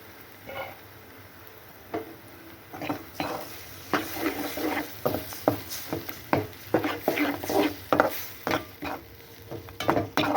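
Beaten egg goes into a pan for an egg podi fry and is stirred with a utensil, giving repeated scraping clinks against the pan over a soft sizzle, close and moderately loud.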